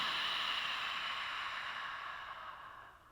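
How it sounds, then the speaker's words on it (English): One sustained Ujjayi exhale through an open mouth, a breathy throat-constricted hiss like fogging a pane of glass, steady and close before fading out gradually, with no talk over it. "it's like exhaling with the mouth open, trying to fog up a plane of glass"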